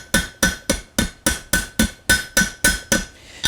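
A hammer strikes a rivet with the flat face to spread it while a barbecue spoon is forged. Eleven sharp, ringing metallic blows land in a steady rhythm, each fading quickly, close and loud with no talk.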